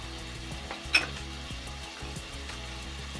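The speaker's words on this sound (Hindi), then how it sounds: "इन्हें चलाते हैं और अब हम इनमें मसाले डालेंगे। इसमें 1/2 चम्मच हल्दी डालते हैं" Turmeric and other spices fry with green chillies in a pan for chana masala, giving a faint, low sizzle under a steady hum, with one sharp click of a spoon against the pan.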